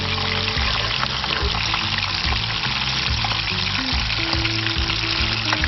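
A calamari tube frying in hot oil flavoured with bacon, a dense continuous sizzle and bubbling held close and loud throughout, with no talking.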